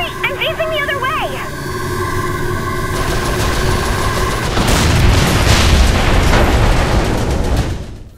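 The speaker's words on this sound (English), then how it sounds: "I just blew up a capital ship" A capital ship exploding in Saints Row IV, a rumbling roar that swells into a loud, sustained blast with crackling debris, following a brief electronic tone, then cutting off abruptly.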